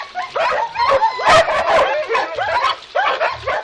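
A Laika hunting dog barks, yips and whines in rapid, excited bursts while tearing at game during a training hunt, loud and close, with a voice shouting briefly among the barks.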